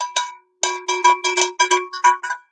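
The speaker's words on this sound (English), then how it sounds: "when we get a super chat, we do got a bell" A hand-rung victory bell on a sports-talk live stream clangs in a quick series of about nine bright metallic strikes, close and loud, with no talking.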